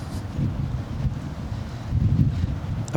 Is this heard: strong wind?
yes